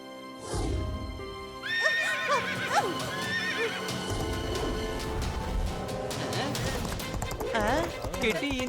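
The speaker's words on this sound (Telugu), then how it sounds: "కిటి ఇంత బాగా గుర్రం స్వారీ చేస్తుంది చూడు." A cartoon horse neighs and whinnies repeatedly over a steady clip-clop of galloping hooves, with a busy music and effects bed throughout.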